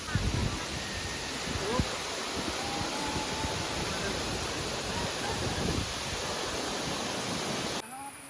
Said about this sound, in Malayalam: നമ്മളിപ്പോൾ കാണുന്ന ഫഹദ് ഫാസിൻ്റെ കാർബൺ സിനിമ ഷൂട്ട് ചെയ്ത വെള്ളച്ചാട്ടമാണ് കേട്ടോ